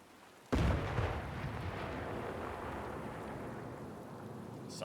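In the video game Sniper Elite 5, a zombie cannon fires with a sudden deep boom, then a long rumbling roar that slowly fades. It is a single blast at moderate distance, with no talk.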